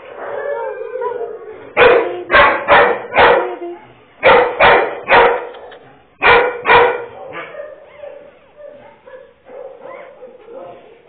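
A pit bull mix mother dog with a litter of pups barks in loud, close clusters of three or four sharp barks, separated by short pauses and quieter low vocal sounds.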